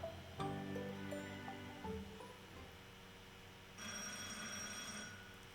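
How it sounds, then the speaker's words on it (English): A telephone rings in The Great Ace Attorney 2, heard as repeated bell-like trills over a quiet game music bed, with a brighter burst of ringing near the end. "we were getting the phone call here. Ding-a-ling-a-ling."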